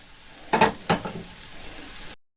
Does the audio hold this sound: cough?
no